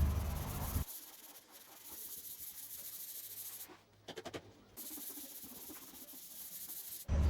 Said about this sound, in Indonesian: semua bagian multiplex kembali saya amplas